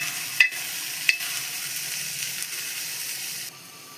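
Shredded cabbage, capsicum and carrot frying lightly in a pan for a chicken roti roll, a steady soft hiss with two short utensil taps early on, close by, easing down near the end.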